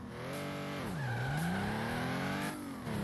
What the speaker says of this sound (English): Let's see if the car can make it.